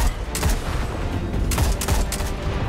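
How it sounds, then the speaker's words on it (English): Explosions in the Destiny 2 video game, a dense loud barrage of overlapping booms and crackling blasts in clusters, with no talk over them. "Let's deactivate both of the force fields and blow everything up."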